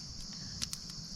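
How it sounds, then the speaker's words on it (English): Crickets chirp at a forest campsite, a faint, steady high trill with a few brief louder chirps, heard alone in quiet night air. "just so peaceful, listening to the crickets"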